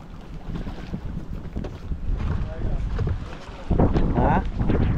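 Strong storm wind buffets the microphone in heavy, gusting rumbles, growing louder toward the end, with water and faint voices underneath.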